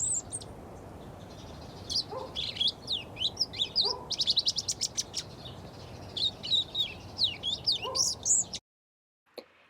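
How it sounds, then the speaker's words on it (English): A fox sparrow calls from a backyard brush pile, giving a run of bright chirps and short song phrases that come close and fairly loud, with brief pauses between bursts and faint low rustling beneath. "One of the birds that like to scratch around my brush pile is the fox sparrow"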